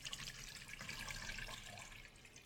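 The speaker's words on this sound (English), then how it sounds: "Just pour your water in." Four cups of water poured into a bowl in a home kitchen while preparing edibles, a steady broadband splashing rush that holds nearly level for the whole stretch, close and fairly loud with no talking.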